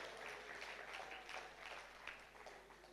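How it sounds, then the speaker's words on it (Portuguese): Church congregation applauding during a worship service, a steady wash of many hands clapping at moderate level with faint voices mixed in, fairly distant. "dê com toda a convicção uma salva de palmas para Ele"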